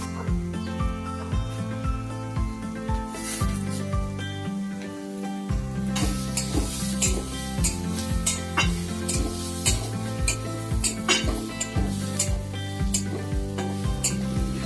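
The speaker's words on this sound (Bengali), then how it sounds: "তারপর এটাকে খুব ভালো করে নাড়িয়ে নিলাম।" Paneer roll filling stirred and frying in a pan with salt and cumin powder, a steady close sizzle under repeated scraping strokes of a spoon against the pan, continuous and fairly loud with no talking.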